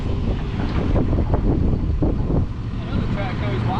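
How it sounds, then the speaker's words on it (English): Strong wind buffets the microphone outdoors at a slip-and-slide track, a loud continuous low roar and rumble that swells and dips, with voices faintly under it. "Golly, that wind is awful."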